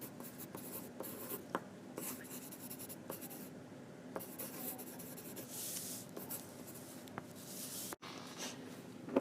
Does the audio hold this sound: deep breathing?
no